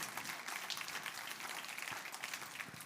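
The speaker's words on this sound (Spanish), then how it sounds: "Dale ese fuerte aplauso al Señor." Applause from a church congregation at a Sunday service, a steady wash of clapping held at even loudness for the whole stretch, with no voice over it.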